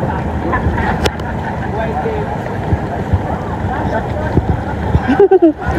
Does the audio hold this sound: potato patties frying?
no